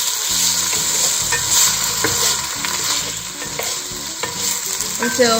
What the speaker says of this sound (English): our garlic, and our onions, and we will be stirring these around